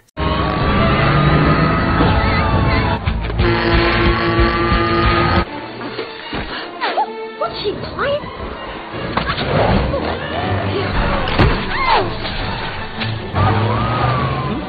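A stolen fire engine drives in an animated film, with loud engine roar and rumble, a brief drop and crash-like burst midway, and shifting vehicle noise under music and effects, without spoken words.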